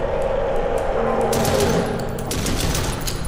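Rapid automatic gunfire in the body-cam horror video game Chuxie, a dense sustained burst of shots loud and close, with game ambience and a voice partly underneath.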